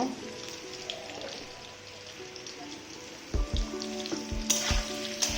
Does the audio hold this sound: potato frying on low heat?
yes